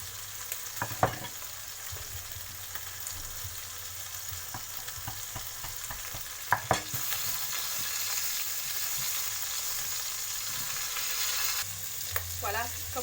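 Pork belly simmering and sizzling in an old-fashioned cast-iron cocotte, a steady soft frying hiss with a few louder clinks and stirring knocks near the start and middle, no talk.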